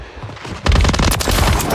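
Loud automatic gunfire in Call of Duty: Modern Warfare, Kill Confirmed mode on the Departure map, erupts after a quieter opening and rattles on as a dense, close burst of shots.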